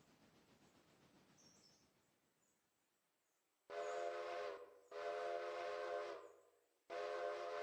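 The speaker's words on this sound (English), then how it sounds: "Give them a good whistle just to let them know I'm coming into the station here." Three loud, tonal steam whistle blasts from a steam train approaching a station in the game Railroader sound after a quiet stretch of low rumbling, each long and harmonically rich with brief gaps between.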